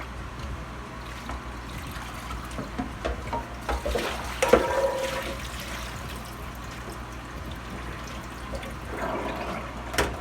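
Water running and draining from rinsed rice in a kitchen, a soft continuous wash with gurgling and a brief louder splash midway, fairly close and steady.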